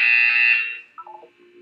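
A buzzer in the Portal 2 video game sounds once, a loud, harsh electronic tone lasting about half a second before fading, followed by a few faint mechanical blips.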